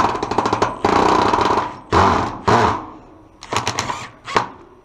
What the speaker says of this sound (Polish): Dlatego wiercę sobie tamtym wkrętem, jak już jest dziurka, no to on się jakoś tam wkręca.